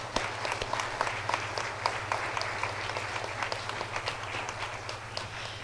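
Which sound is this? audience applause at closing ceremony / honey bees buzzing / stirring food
audience applause at closing ceremony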